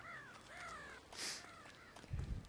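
Crows caw in a Family Guy video game. A few harsh caws come in quick succession at moderate distance, followed by a short burst of noise near the end.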